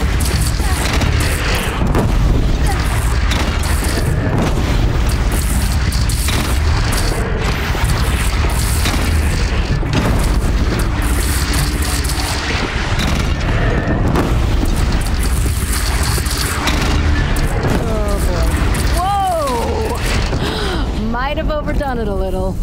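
A bridge is shot down in the game Horizon Zero Dawn, heavy booming explosions and rumbling collapse filling a dense, loud battle mix, with voices talking over the chaos.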